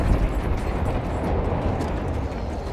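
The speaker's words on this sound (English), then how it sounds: "That right there was a JB2 rocket" A JB2 rocket explodes in the game Battlefield V, a loud, sustained roaring blast with deep rumble filling the whole moment, heard alone.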